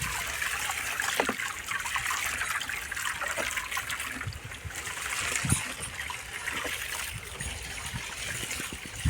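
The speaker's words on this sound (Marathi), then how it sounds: "जी प्रक्रिया व्हायला लागली ना कसा आवाज यायला पाणी उकळल्याचा" Water heats and bubbles after potassium humate is added to make humic acid, a continuous close churning and gushing that runs steadily throughout without a break.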